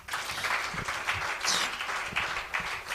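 A church congregation applauding during a sermon, a broad wash of many hands clapping at moderate distance, fairly steady throughout with a few louder bursts.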